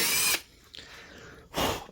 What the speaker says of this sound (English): this kind of this wood is not the best for drilling holes in a nice, perfectly straight way